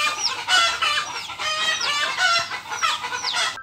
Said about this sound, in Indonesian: jika ayam ribut, gelisah, dan juga mengeluarkan suara-suara yang mengganggu